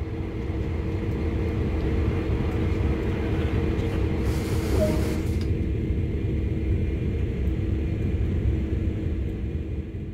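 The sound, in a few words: CSX heavy freight locomotive rumbling in video game Train Sim World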